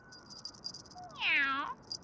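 A cat in an alley lets out a single drawn-out meow, fairly close, over a faint chirping, rattling background.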